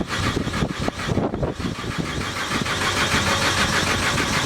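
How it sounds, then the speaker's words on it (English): A cold diesel engine on a duct truck cranks and catches on a chilly morning, settling into an uneven, moderately loud running rumble with no voices over it. "It is a diesel engine. It is cold this morning. But otherwise, it's just like starting a car."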